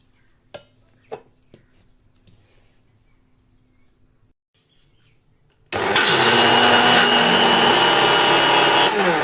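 A mixer grinder grinding a quarter cup of semolina (rava) for sweet puris starts abruptly after a few quiet seconds with small knocks, then runs loud and steady with a dense whirring roar to the end.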